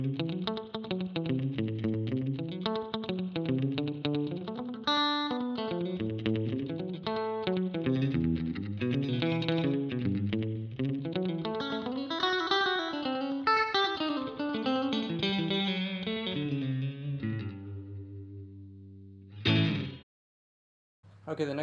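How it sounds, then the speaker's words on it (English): Electric guitar through a Boss RV-500 spring reverb with a high cut and a touch of slapback delay plays a bouncing, wavering riff and then chordal phrases. The notes carry a springy echo and end in a held chord, a pause and a brief final strum. "the next patch is a spring type reverb, and I've got a little bit of a slapback delay on there"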